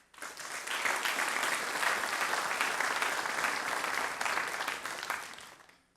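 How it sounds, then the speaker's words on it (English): Sustained audience applause fills a summit keynote hall, a dense, even wash of clapping from many hands that swells quickly, holds steady for several seconds, then tapers off. "I think they deserve a big round of applause."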